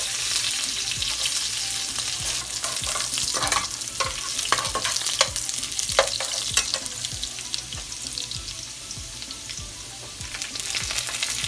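Garlic sizzles and crackles in hot oil while being stirred in a pan for a guar phali (cluster bean) dish, a steady frying hiss broken by repeated scraping stirs, close and loud with no talking.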